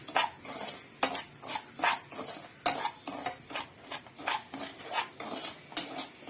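Semolina (rava) dry-roasting in a pan, stirred steadily with a spoon: a close, even run of scraping, grainy strokes repeats about twice a second, with a faint background hiss.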